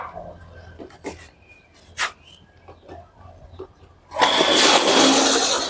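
An electric water pump, set up for deep wells, kicks on after a stretch of faint background noise: a sudden loud, steady broadband roar with water surging that holds strong to the end.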